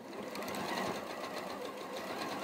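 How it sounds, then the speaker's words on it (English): An Elna 720 Pro sewing machine runs a 3 mm straight stitch across the top of a fabric bag, a close, steady, fast mechanical whirr with rapid needle ticking that holds at an even level throughout. "I'm going to go up to 3 mil and literally stitch across the top"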